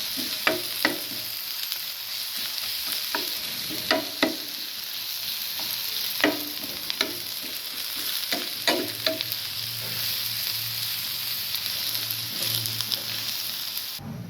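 Onions frying for a bhuna curry, a steady close sizzle with the pan stirred repeatedly, bringing sharp scrapes and clinks of the spoon throughout.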